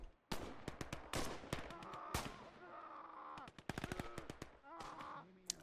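Bursts of automatic machine-gun fire in the Call to Arms WWII game, with rapid rattling volleys and single cracks repeating across the scene, loud and close, mixed with scattered distant shots.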